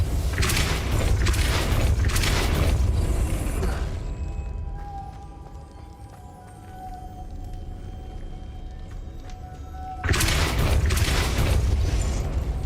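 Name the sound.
Depulso spell cast in video game Hogwarts Legacy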